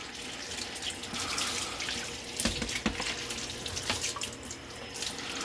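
A kitchen tap runs steadily into a sink while dishes are washed, a close, continuous hiss broken by a few clatters and splashes, with no talking.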